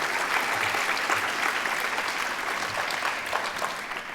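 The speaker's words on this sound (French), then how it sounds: "Je vais applaudir moi tout seul" Steady applause from an audience at a contest presentation fills the whole stretch, dense and even, with no voices over it.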